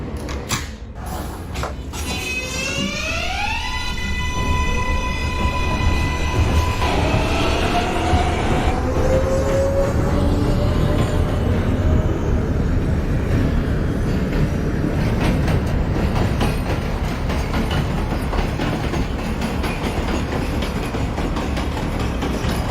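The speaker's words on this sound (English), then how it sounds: "This is a Manhattan-bound J local train." A simulated NYC Subway R143 J local train in the game OpenBVE runs loudly with a steady rumble, rising whine of the motors and squealing wheels, continuous throughout.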